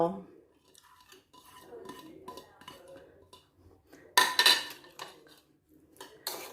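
Utensils clatter and scrape against a bowl while a Thai rice noodle salad with papaya is tossed, with a sharp, bright metallic burst of clinks near the middle and another near the end, close by and moderately loud.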